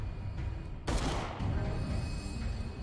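A single gunshot in the video game Call of Cthulhu cracks out sharply, followed by a short rumbling tail over low background game ambience.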